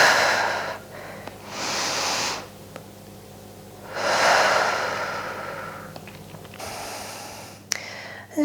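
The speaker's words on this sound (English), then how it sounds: "just take a nice couple of deep breaths here" Slow, deep breaths during a Pilates stretch, two long soft inhale-exhale swells close to the microphone, with quiet pauses between them.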